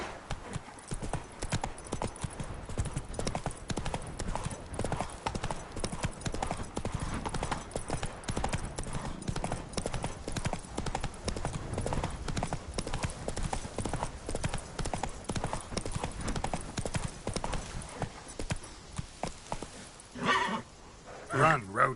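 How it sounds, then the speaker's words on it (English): Horse galloping in The Witcher 3 video game, a fast continuous clip-clop of hooves close by for most of the clip, with a brief whinny and a voice near the end. "Run, Roach"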